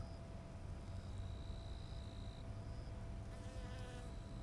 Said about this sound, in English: I think that's a honeybee.